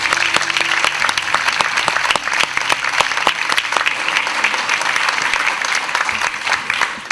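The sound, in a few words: audience applause at a British Museum event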